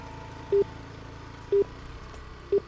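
Three short, evenly spaced telephone keypad tones sound about a second apart as a phone number is dialed, clear over a faint background hum.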